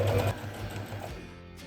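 A sewing machine runs a short stitch along a folded strip of fabric, a belt piece for a summer dress, giving a close, steady motor whir that is strongest at the start and then settles into a quieter hum.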